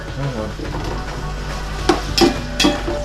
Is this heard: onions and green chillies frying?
yes